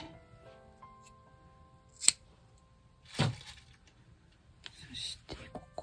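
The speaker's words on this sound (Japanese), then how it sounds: "ハサミで切って、" A few quiet scissor snips cutting yarn during crochet, with small clicks, close by and spaced apart in a hushed room.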